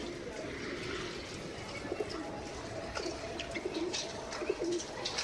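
Pigeons cooing softly in short low bursts against a background of rustling and ambient noise, a few faint chirps scattered throughout.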